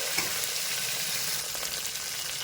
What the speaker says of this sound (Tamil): இஞ்சி முந்திரி பருப்பு எல்லாமே போட்டாச்சு சும்மா ஒரு திருப்பி திருப்பி விட்டு